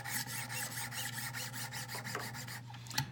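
A knife blade is drawn repeatedly across a Wicked Edge 1000 grit diamond stone, giving a close, even series of raspy scraping strokes about every quarter second, with no talk over it.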